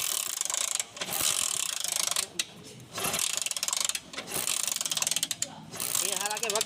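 A motorcycle engine being kicked over with a faulty double-current CDI ignition gives repeated rapid mechanical clattering bursts broken by short pauses, loud and close, with no talk.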